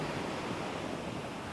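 Ocean surf washing steadily along the Newfoundland coast, a continuous broadband roar of breaking waves with some wind, moderately loud and unbroken, with no voices.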